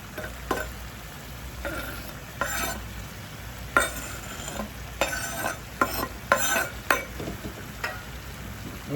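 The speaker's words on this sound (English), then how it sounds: "Now I'm going to add some tomato, carrot, and green onion" Tomato, carrot and green onion stirred into a pot of Jamaican brown stew goat: scattered spoon scrapes and soft clatters over a low bubbling simmer, close and moderate, with no talk.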